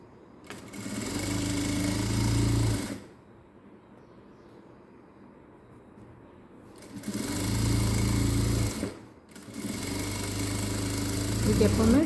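Sewing machine stitching along the edge of a blouse lining, two steady runs of motor hum separated by a quiet pause, close and fairly loud.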